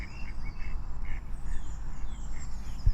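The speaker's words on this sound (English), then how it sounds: "All the ducks are coming to say hello." Ducks at a pond quack in short repeated bursts, fairly close but moderate in volume, over a low outdoor rumble of wind and ambient noise, with no voices.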